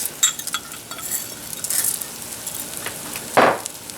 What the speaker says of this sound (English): now you're gonna add the rice